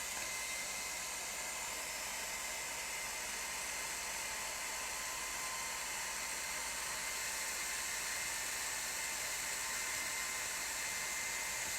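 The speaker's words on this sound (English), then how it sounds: "Let me just get the hairdryer on this for a second" A hairdryer blows on a wet watercolour painting of the River Swale, a steady, loud broadband whoosh running unbroken from start to finish with no voices.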